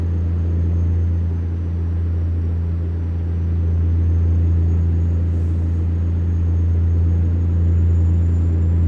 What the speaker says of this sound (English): on a diesel, this doesn't sound... Seems like it's too many RPMs for a diesel